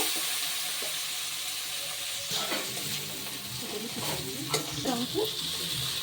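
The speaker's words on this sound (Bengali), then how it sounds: "এবার চিংড়ি মাছটা ভেজে নেব" Prawns sizzle and crackle in hot oil, a steady frying hiss with occasional stirring clatter, close up and without talk.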